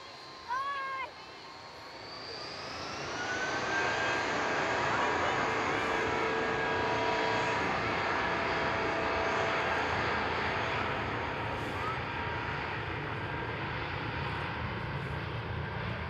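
An Emirates Airbus A380 jet airliner flies over Christchurch, its engine roar building within a couple of seconds into a steady, broad, loud drone that holds for the rest of the stretch, with a few chirpy sounds near the start.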